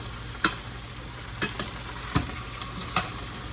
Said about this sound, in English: So okay, I'm gonna stir this.